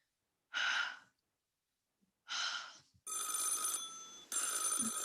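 A telephone in a radio drama rings with loud electric bell bursts, first two separated rings with pauses, then a longer continuous ringing that briefly cuts and resumes, close and clear.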